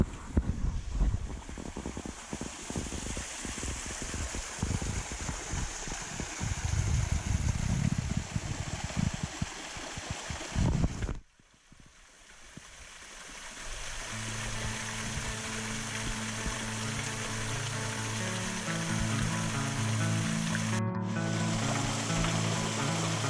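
A waterfall reached by kayak roars loudly and close for about eleven seconds. After an abrupt cut, a steadier, softer rush of water continues with a faint humming tone running beneath it, and no one speaks.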